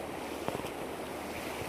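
Floodwater rushes across a farm field after an upstream canal burst, a continuous broadband roar of moving water blended with outdoor wind noise throughout.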